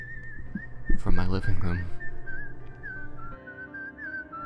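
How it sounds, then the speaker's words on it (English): Off-key whistling comes from a person, a wavering tune of held and sliding notes running through the whole stretch, with a narrating voice talking over it part of the time. "I heard an off-key whistling sound coming"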